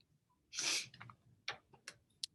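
A single sneeze bursts out sharply near the microphone, followed by a few short sniffs and breathy snorts in a quiet room, from someone with allergies.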